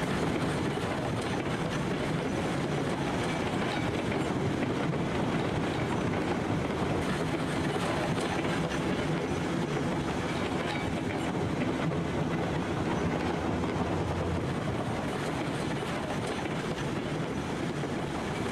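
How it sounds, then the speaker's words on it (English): A locomotive runs along track in the railroad game Railroads Online, producing a steady, dense rumble with rhythmic wheel clatter that holds at an even loudness throughout. "can this train get around this bit of track? Can this loco get around here?"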